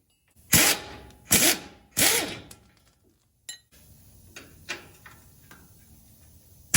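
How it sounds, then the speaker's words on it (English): An impact gun gives three loud, sharp bursts close by as it cracks loose bolts on a Toyota pickup's steering parts, followed by quieter clinks and handling noise. "We can get out the impact gun and crack those off"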